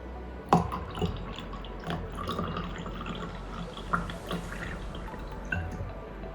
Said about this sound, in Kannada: ಸೊ ಈಗ ನಾನು ಇದಕ್ಕೆ ನೀರು ಹಾಕ್ತೀನಿ